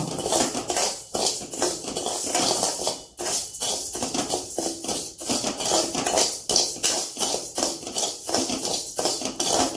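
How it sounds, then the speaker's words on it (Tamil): Raw rice dry-roasts in a hot pan for Thiruvathirai kali. A continuous close rattle and scrape of grains being stirred runs at a steady level throughout, with no voices. "நல்லா வானிலையை சுட பண்ணி அதில் பச்சரிசி போட்டு நல்லா செவக்க வறுக்கணும்."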